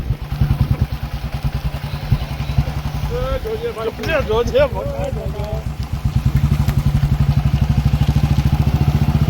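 A motorcycle carrying three riders putters along with a rapid, steady pulsing rhythm while people talk briefly over it.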